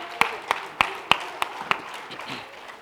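Scattered clapping for team members at a company talk, six sharp, evenly spaced claps rising above a quiet room before fading out.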